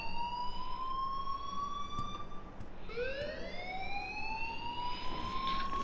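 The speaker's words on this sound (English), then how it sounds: "please turn off that alarm since that's your job" A wailing electronic alarm in the video game Life Is Strange rises and falls in long sweeping tones, dipping briefly before restarting, loud and continuous over a faint background.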